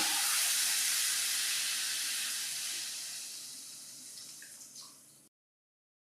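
Full-fat milk poured into sautéed grated sweet potato in a pan: a steady, loud, hissing sizzle that slowly tapers off over several seconds, then cuts to silence.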